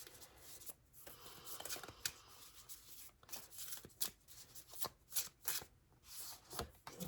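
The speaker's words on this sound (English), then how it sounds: "This is the tarot deck that we're going to pull 3 cards from" A tarot card deck being shuffled, with soft riffling and rubbing bursts of card noise repeating irregularly at close range, alone without talk.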